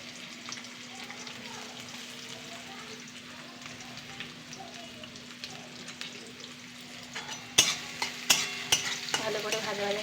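Onion frying with black cumin in a pan gives a soft, continuous sizzle at low level, with a few sharper scraping and clattering stirs toward the end.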